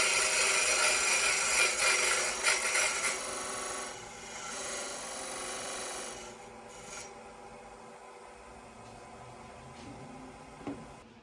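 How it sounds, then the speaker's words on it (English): A square carbide scraper carves a tenon into a spinning wooden blank on a lathe, giving a steady rasping scrape that is loudest early on, then softens and thins toward the end. "I chose to use my square carbide scraper to carve out the tenon"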